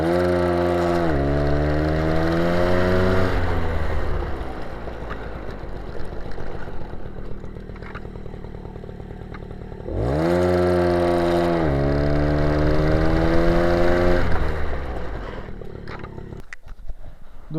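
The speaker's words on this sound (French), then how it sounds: "Le moteur il prend les tours, ça patine pas trop, ça embraye super bien" MBK 51 Magnum moped engine revved during a clutch test, two rising high-pitched revving runs separated by a steadier buzzing idle, close and fairly loud.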